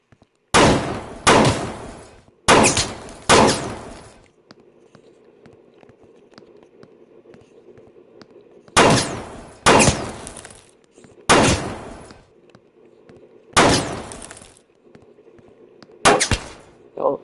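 Roblox training-range gunfire comes in sharp bursts, several rapid volleys with quiet gaps between them, loud and close. A low hum and faint talking sit underneath the shots.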